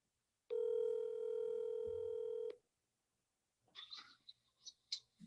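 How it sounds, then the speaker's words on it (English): A telephone call rings while waiting for someone to pick up: one long steady ring tone for about two seconds, then silence, followed by fainter broken sounds from the line. "So let's hope he picks up the phone."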